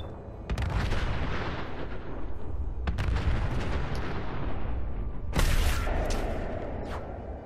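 Booming blasts and heavy gunfire in modded Fallout 4 on PS4, several loud sharp detonations spread across a few seconds over a steady rumbling din.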